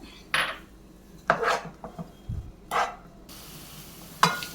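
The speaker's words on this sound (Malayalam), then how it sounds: "നല്ലതുപോലെ ഇളക്കി മിക്സ് ചെയ്ത് ഇനി വഴറ്റി എടുത്തുകൊണ്ട് വരാം." A utensil stirs and sautés banana with grated coconut in a pan, making a series of separate metallic scrapes and clinks with short pauses between them, close by and fairly quiet.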